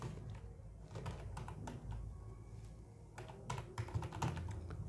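Quick, close clicks of fingers typing on a computer keyboard while working in a spreadsheet, irregular bursts of keystrokes with brief pauses, quiet and without talk.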